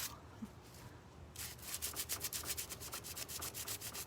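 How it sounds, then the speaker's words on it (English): Sandpaper rubbing back and forth over painted metal, a steady close rasp that turns into fast rhythmic strokes midway, no voices. "I might be sanding actual metal"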